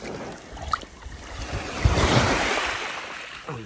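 A fossil stone is swished and rinsed in the water on the Lake Michigan shore, making a brief rising slosh over wind rumble and lapping water close to the microphone, with no talk.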